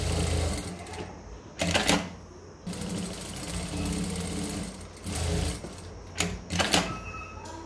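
A sewing machine stitches a homemade cotton bra in close, steady whirring runs of rapid needle clatter, broken by short pauses and a few sharper clicks as the fabric is repositioned, with no talking.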